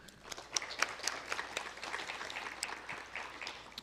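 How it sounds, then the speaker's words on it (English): At a scholarship quiz competition, an audience gives a round of applause. The clapping is moderately faint and sounds like a scattered crowd, rising and falling unevenly for a few seconds. "Round of applause for them."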